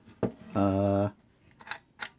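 The shutter of a 1946 Kodak Six-20 Flash Brownie film camera gives a few short, sharp mechanical clicks close by, with a brief voiced hum between them.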